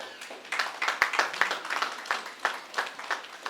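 Scattered, thin applause from a small audience at a diploma ceremony, irregular clapping bursts that swell and fade without building to a full ovation.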